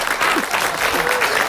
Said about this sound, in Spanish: ya a mí no me gusta que aplaudan, Juan, me da pena.